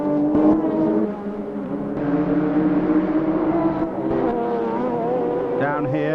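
Mid-1990s Le Mans 24 Hours racing, with Porsche and Nissan prototypes through the final chicane, their engines droning loud and steady alongside continuous commentary, a pitch-shifting note rising near the end.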